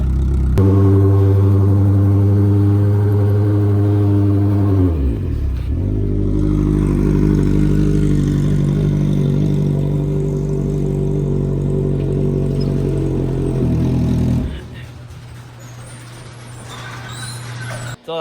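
A Smart car sleeper build with a loud engine on ice holds a strong, steady rev with a rich harmonic drone, dips briefly, then climbs and sustains again before dropping to a lower rumble near the end.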